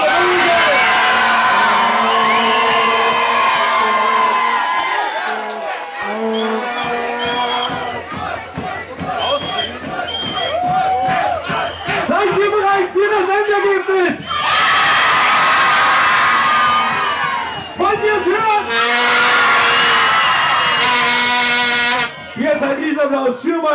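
A large crowd at a live radio event cheers, whoops and claps in loud sustained bursts, with an announcer's amplified voice speaking over and between them.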